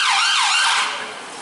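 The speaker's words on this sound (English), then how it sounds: "Ooh, ambulance." An ambulance siren wails loudly in a rising and falling pattern on a city street, then fades as it moves away.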